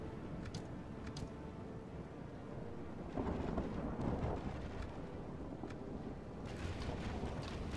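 Rainstorm with thunder in the Total War game: a broad, steady roar of rain and wind with a louder rumbling surge partway through, constant and without speech.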